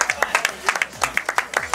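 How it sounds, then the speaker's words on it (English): Scattered light clapping from a small group, quick and uneven, polite rather than enthusiastic, filling the short moment with no other sound. "Oh, and golf claps everywhere."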